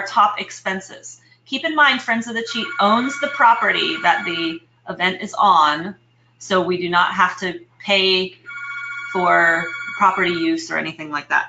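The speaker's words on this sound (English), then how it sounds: "sorry about the phone there." A telephone rings during a talk about a watershed group's festival budget, its brief electronic tones surfacing twice beneath a speaker's continuous presentation.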